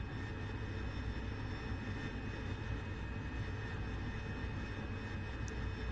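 Steady, even roar of an AV-8B Harrier jet engine in the DCS flight simulator just after takeoff, a dense broadband rumble with faint tonal whine, continuous and unchanging throughout.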